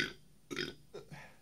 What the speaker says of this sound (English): If I burp, it's a sign of a good beer.